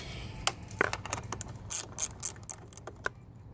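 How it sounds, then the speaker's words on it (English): Ratchet wrench taking the battery lead off a Nissan Pathfinder D21 4WD, quick clicking ratchet strokes in short bursts up close, with some metallic rattling between them. "if you're like me and you got a nice set of ratchet wrenches, you can go ahead and take them off."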